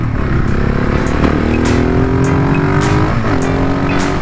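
A motorcycle rides along a road, its engine a loud, steady drone that stays close throughout, with the pitch gently rising and shifting as it revs. No voices are heard.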